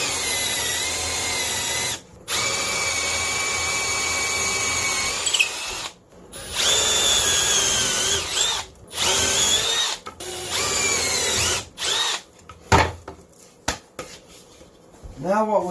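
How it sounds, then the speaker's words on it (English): A power drill bores holes into the bottom of a wooden fly-tying station, running in long loud whining bursts broken by short pauses, with the motor winding down and restarting near the end. "Now we just got to finish drilling the holes into the bottom."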